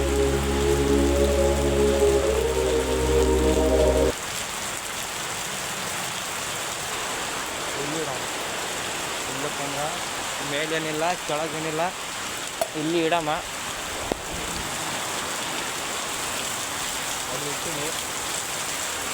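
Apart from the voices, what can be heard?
rain falling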